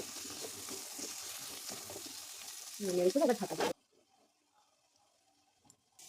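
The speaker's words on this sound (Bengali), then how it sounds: "আলুটা তো আগেই ভাজা বসিয়ে দিয়েছিলাম এদিকে আমার আলু ভাজা হয়ে গেছে" Potatoes frying in a pan give a steady, hissing sizzle under a woman's speech for several seconds, with a brief louder clatter, before the sound cuts off to near silence.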